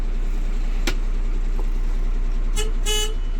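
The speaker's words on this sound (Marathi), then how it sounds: "आपला हॉर्न बसला गाडीला" A newly fitted truck horn blares in two short bursts, the second a sustained tonal honk, over a continuous low engine idle.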